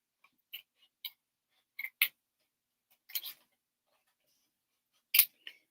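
Scissors snip around a flower on paper while making a card: a handful of short, crisp cuts, close and fairly quiet, spaced unevenly with near-silent pauses between them.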